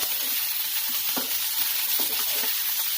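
Medium-cut capsicum pieces fry in a pan with a steady, even sizzle and a few soft stirring knocks, heard close up with no voices.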